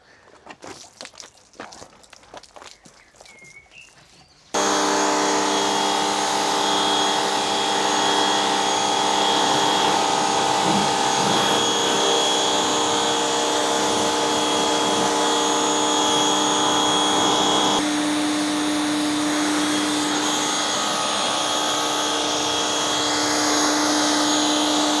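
Jet washer spraying a car, a loud steady high-pressure hiss and motor drone that kicks in abruptly after a few quiet seconds and runs continuously, shifting in tone partway through.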